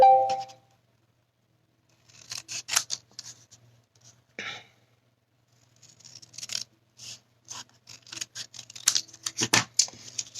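Scissors cutting sheets of glittery card and paper at a crafting table, a few short snips and clusters of slicing strokes alongside light handling rustles, close and fairly quiet with no talking.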